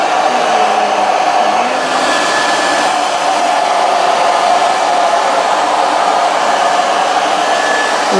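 A hair dryer blows steadily and loudly at close range while a spaniel-style in-curl blow-dry is done on hair, a constant broadband whoosh with a faint tonal whine and no speech.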